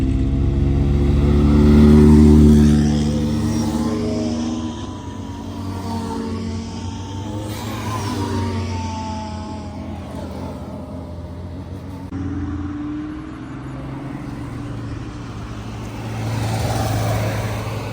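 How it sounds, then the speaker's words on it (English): A lineup of hypercars during Monterey Car Week rips past on a street, loud engine revving and accelerating in passing waves, each car swelling close and then fading. "Now we got an insane lineup of hypercars that's about to just rip right through here."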